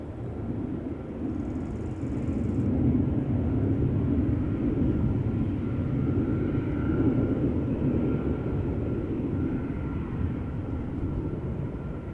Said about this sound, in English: an Embraer 190 is approaching the runway